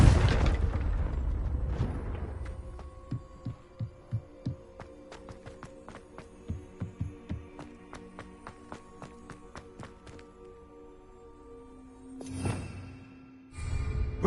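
Confringo fire spell in the PS5 game Hogwarts Legacy, opening with a loud booming blast, then a run of rhythmic throbbing pulses and a humming tone, with another swelling burst near the end and no voices.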